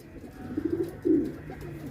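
A breeder pigeon cooing up close, two low throaty coo phrases in quick succession with no talk over them.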